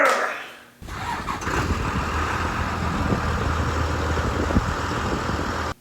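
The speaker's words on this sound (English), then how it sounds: "That's the Oliver tractor." An Oliver farm tractor's gas engine cranks and catches after a short pause, then settles into a steady, loud, close idle rumble that holds for several seconds before cutting off abruptly.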